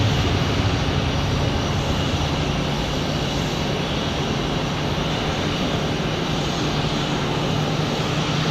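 Steady, loud airplane engine roar from a nearby aircraft arriving from Cancun at Tucson, a continuous broadband drone with no voices.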